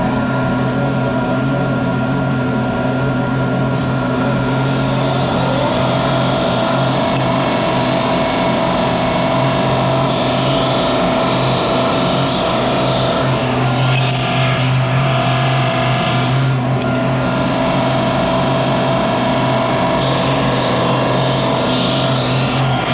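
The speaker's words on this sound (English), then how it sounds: "We're going to use the wide belt sander to get them down to size." Wide belt sander bringing wooden drawer parts down to size, a constant loud industrial machine hum with a steady low drone and faint grinding variations throughout.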